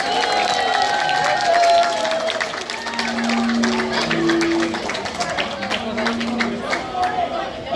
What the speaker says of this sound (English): one more round of applause for our fantastic team